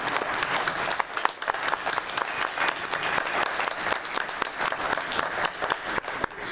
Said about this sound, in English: I just want to clap for you.